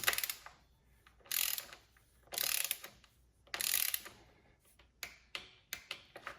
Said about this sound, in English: Now I'm gonna torque them down, kind of alternating randomly around.